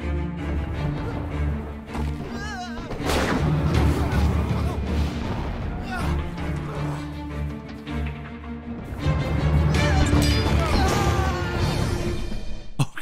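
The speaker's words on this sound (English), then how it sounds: "The cannon barrage might be too much." Iron Man's cannon barrage in the video game TABS, a dense run of booming, crashing impacts and whooshes over a constant loud battle din, swelling heavier near the end.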